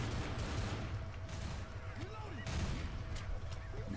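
Gunfire in the zombie shooter Left 4 Dead, a dense run of shots crackling steadily through the whole stretch, fairly close and loud, with players talking over it.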